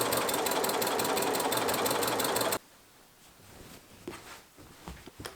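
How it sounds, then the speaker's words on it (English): Sewing machine stitching the side seams of fabric with a 1 cm seam allowance, a steady loud rapid mechanical whir for about two and a half seconds that stops abruptly, followed by soft handling noises. "Stitch down each side with a 1 cm seam allowance."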